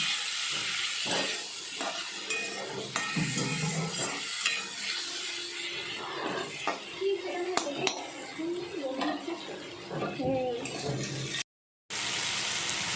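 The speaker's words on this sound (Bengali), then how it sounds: "আলু আর পটলটা যে ভেজে রেখেছিলাম সেটা দিয়ে দিলাম দিয়ে একসঙ্গে একটু নাড়াচাড়া করে নিচ্ছি" Fried potato and pointed gourd are stirred in a pan with salt and spices, a spoon scraping and clinking against the metal over a steady sizzle and hiss of frying, while someone talks throughout.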